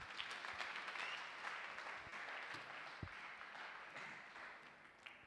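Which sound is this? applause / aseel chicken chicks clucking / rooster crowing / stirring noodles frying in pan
applause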